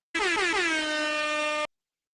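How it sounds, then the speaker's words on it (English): A single sustained air horn blast, loud and close, sounding for about a second and a half with a bright, brassy tone before cutting off abruptly into silence. "We got air horns in the building."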